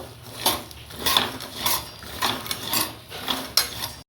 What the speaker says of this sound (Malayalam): നമുക്ക് ഇതിങ്ങനെ വറുത്തെടുക്കാം